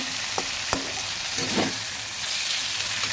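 Potatoes and fish fry in a hot pan with a steady close sizzle, broken by a few sharp clicks and brief bursts of spatter.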